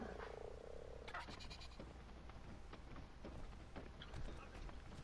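A frog creature croaking in the video game Ark, a few low croaks close by over game ambience and bleat-like calls, fairly quiet.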